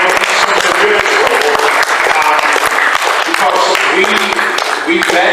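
A large audience claps loudly and steadily for Sven at a toy collectors' event, dense continuous applause with scattered cheers and voices mixed in, sustained throughout.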